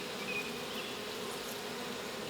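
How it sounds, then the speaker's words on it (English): Honeybees buzz around brood comb taken from a neighbor's wall, a dense and steady close-up drone with no pauses. "There are some honeybees up top here."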